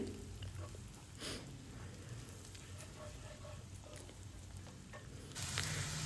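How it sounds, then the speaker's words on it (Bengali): Onions frying in oil with chili powder and turmeric stirred in, a continuous close sizzle with occasional scraping stirs as the pan crackles on. "এবার তেলের ওপর আমি লঙ্কা গুঁড়ো আর এক চামচ হলুদ গুঁড়ো দিয়ে দিলাম দিয়ে আবারও ভালো করে আমি নাড়িয়ে চাড়িয়ে নেব খুব ভালো করে পেঁয়াজটাকে ভাজবেন"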